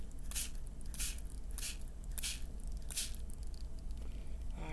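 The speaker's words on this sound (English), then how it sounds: "Then we lightly mist." A spray bottle lightly mists water onto paper in five quiet, evenly spaced hissing puffs, close up with no talking.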